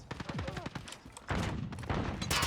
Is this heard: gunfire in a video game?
yes